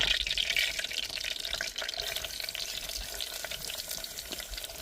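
Onion frying in a pan for a village-style crab curry, a dense hiss of sizzling oil with some watery crackle, steady and close throughout the short stretch, no voices.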